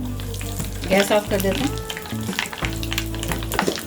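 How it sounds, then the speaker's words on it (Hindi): Mustard seeds and asafoetida sizzle and crackle loudly in hot oil for a quick tempering for instant mango pickle, with a steady frying hiss and brief bursts of popping, and a voice speaks over it near the end. "अब हम इसमें डालेंगे 1 टीस्पून राई, 1/2 टीस्पून हींग।"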